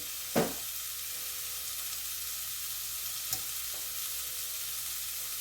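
Garlic frying in a pan for a simple curry, a low, continuous sizzle broken by a sharp clatter at the start and a lighter tap later.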